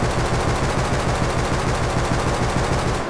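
An LR300 assault rifle in the game Rust fires in one continuous, loud automatic stream of rapid evenly spaced shots lasting about three seconds, cutting off abruptly.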